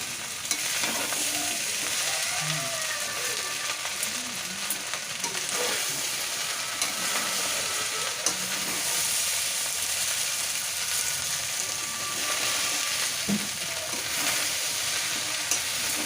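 Bean pulao gets stirred and mixed in a hot pan, giving a continuous dense sizzle with faint scraping under it, steady and close throughout, with no one speaking.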